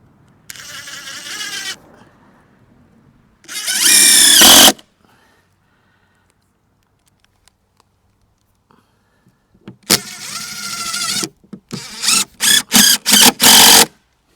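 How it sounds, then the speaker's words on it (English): Screws driven into a timber floor frame for a garden studio base with a cordless driver: loud whining bursts of motor noise separated by silence, ending in a rapid series of short pulses. "So I'm just going to put a few screws in here to hold it in place while I cut it."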